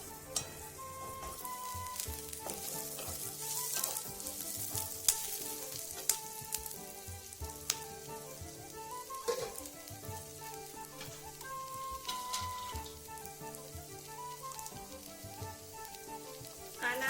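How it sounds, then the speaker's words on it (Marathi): Chopped onion and garlic fry in a little oil in a pan, producing a steady, soft sizzle with occasional stirring scrapes and faint popping throughout. "कांदा भाजतानाच त्याच्यामध्ये लसूण पण भाजून घेणार आहे"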